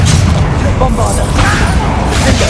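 A Bombarda spell explosion in the Hogwarts Legacy video game makes a dense, rumbling boom with crashing debris. It is loud and sustained, and a voice talks over parts of it.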